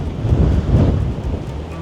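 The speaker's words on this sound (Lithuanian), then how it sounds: "Stipriai vėjuota." Strong wind buffets the microphone in low rumbling gusts in Morocco, a short burst of blustery outdoor noise with no talking.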